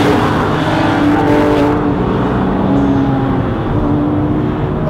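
A Porsche GT3 RS flat-six engine revs hard at high RPM, a sustained, close wail that holds steady and then drops slightly in tone.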